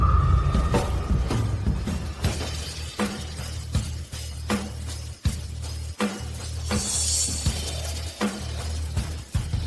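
A meteorite rock is crushed and shattered in a martial arts fantasy scene, a loud series of sharp, cracking impacts recurring roughly every second over a dense rumbling bed, with a bright glassy burst near the seventh second.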